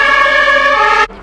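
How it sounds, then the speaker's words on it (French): A fire engine siren blares loud and near during a large fire with roads closed off, holding a steady, piercing tone before cutting off abruptly near the end. "J'ai vu la voiture de pompiers."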